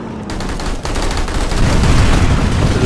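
Rapid pistol gunfire in the sci-fi shooter game Planetside 2, loud and close, with shots cracking in quick succession over a dense wash of battle noise.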